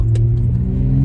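A BMW M340i with a cold air intake gives a brief, loud burst of engine noise as it accelerates, a steady mid-pitched drone with a brief airy flutter, heard close and alone.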